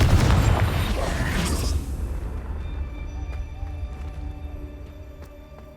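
A Confringo fire spell explodes in the game Hogwarts Legacy: a loud, deep booming blast that rumbles heavily for about two seconds, then fades into a long, low tail.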